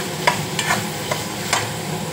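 Mushrooms being stirred into a cooked masala in a pan, a few soft scraping strokes with a low background sizzle, close and fairly quiet, no talking.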